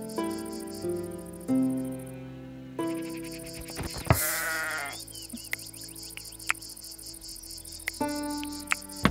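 Goats bleat in the medieval colony-building game Going Medieval, a few short calls over layered game music and a faint insect-like chirping, with no talking.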